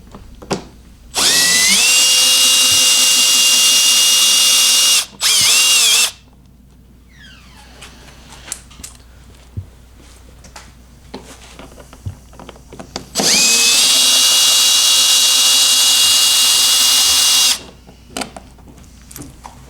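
A power drill backs Torx screws with washers out of the hood of a 2018 Ski-Doo Rev Gen 4 snowmobile, sounding as loud close whirring bursts, one long, a short one, then another long run, with quiet handling between.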